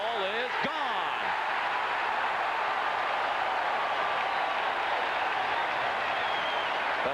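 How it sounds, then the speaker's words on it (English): Baseball stadium crowd at a Toronto at Boston game roaring after a three-run home run, a dense sustained wall of cheering that stays loud and steady throughout, with a commentator's voice briefly at the start. "That's why you hear the delayed roar from the crowd now"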